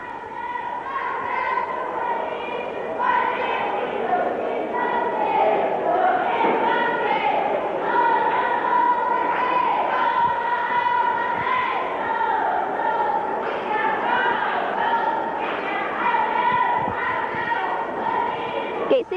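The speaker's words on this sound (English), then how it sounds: "Gate City has a fairly large crowd tonight." A fairly large crowd in the stands at a 1988-89 girls' high school tournament basketball game between Gate City and Marion at Abingdon, a steady loud murmur of chatter and cheering throughout, with a commentator talking over it.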